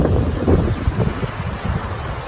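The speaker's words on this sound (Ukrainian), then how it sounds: "Тут вода бурхлива дуже." Turbulent river water rushes loudly and continuously, mixed with heavy wind buffeting on the microphone.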